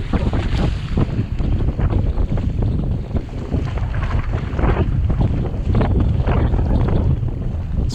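Wind buffets a sailing kayak out on the water, a loud, continuous rushing and flapping roar with gusty surges and splashy wave noise.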